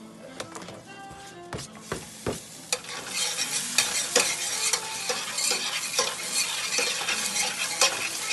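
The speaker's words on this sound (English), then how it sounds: "this little bit of garlic right here, what we're gonna do, we're gonna saute it in this oil" Garlic sautéing in oil, a crackling sizzle that builds and thickens after a few opening clinks and knocks of utensils, with stirring scrapes scattered through, close and without talk.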